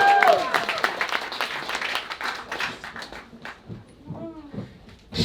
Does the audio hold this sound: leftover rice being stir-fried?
no